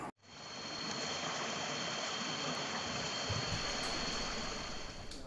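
Floodwater of a small river in a housing area in Muara Enim rushes loudly and continuously, a dense, steady roar of turbulent water close by that holds unbroken after a brief start.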